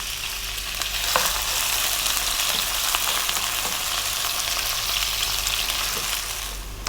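Chopped onions fry in a pan of hot oil with black peppercorns and cloves for an Indian chicken curry, giving a steady, loud hiss with a few soft scraping stirs and no voices.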